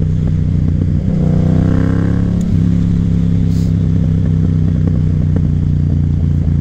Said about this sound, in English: You guys hear those burbles?